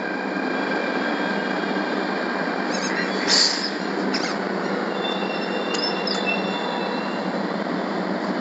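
A metro train pulls into an underground station with a loud continuous rumble and high wheel squeals and screeches, steady throughout with no talking.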